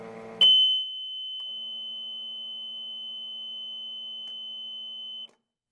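A steady, piercing electronic alarm tone from a pump tank's alarm horn sounds alone for about five seconds, then cuts off abruptly.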